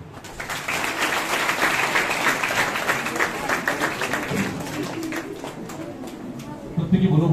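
Audience applause at a memory mastery workshop in Patna, a steady wash of many hands clapping that lasts several seconds and swells again near the end.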